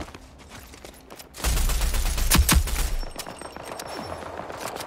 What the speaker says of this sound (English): The shots are so delayed.